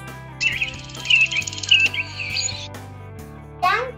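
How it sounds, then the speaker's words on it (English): Bright, rapid bird chirps and tweets in a children's song about the senses, repeating in quick trilling runs over steady musical backing, with a final rising flurry of calls. "I can listen birds."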